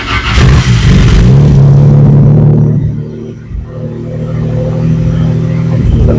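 Citroën XM V6 engine, run without a radiator or coolant, cranks, catches and settles into a loud, steady rumbling idle close by, with a brief dip before the running smooths out.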